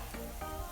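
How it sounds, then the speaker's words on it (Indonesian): Tofu cheese snacks fry in hot oil with a continuous close hiss and sizzle and faint crackle, over a brief stretch with no voices. "Ini kita goreng sampai hampir kecoklatan."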